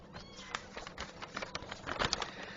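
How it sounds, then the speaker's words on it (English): A kitten meows several times in short calls over a soft, busy background, fairly faint and close, with no one talking. "Oh, wow, look at that kitty."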